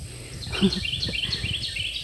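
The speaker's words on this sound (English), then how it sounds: "I love listening to the birds." Birds chirp and twitter in repeated short bursts outdoors, light and moderately close, with soft rustling underneath.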